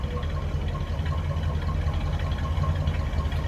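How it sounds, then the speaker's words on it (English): The V8 of a 1963 Mercury Marauder two-door hardtop idles steadily with a smooth, low rumble, close and continuous with no talking. "Just a smooth running V8. That's how good that sounds."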